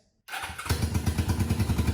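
A Suzuki GS500 motorcycle engine fitted to a mud mower build cranks and catches after a brief silence, then settles into a loud, steady, pulsing idle close by.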